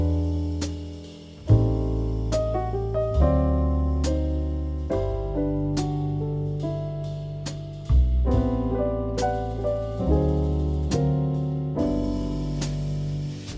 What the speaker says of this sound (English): So if you want the piano, bass and drums,